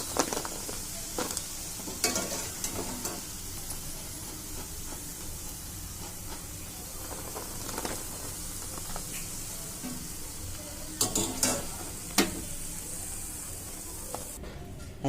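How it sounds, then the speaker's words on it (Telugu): Eggs frying in oil until golden brown crackle with a steady, close sizzle and hiss that runs throughout, with occasional sharper pops and scraping touches, no talk. "గోల్డెన్ బ్రౌన్ కలర్లోకి వచ్చేదాకా వేయించుకుందాం."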